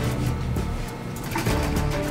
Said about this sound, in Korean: 이제 본격적인 재봉 작업에 들어가는 작업자.